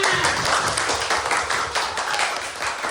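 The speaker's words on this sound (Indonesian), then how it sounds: "Iya, tepuk tangannya semua." An audience clapping together in a steady, dense patter of applause that holds at an even level throughout, fairly close and filling the space, with a faint voice briefly underneath.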